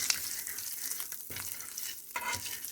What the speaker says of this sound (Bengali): লো হিটে ভালো করে নাড়াচাড়া করে নেব।